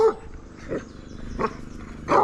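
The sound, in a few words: guard dog barking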